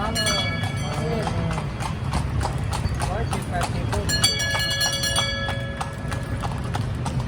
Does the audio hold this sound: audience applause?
no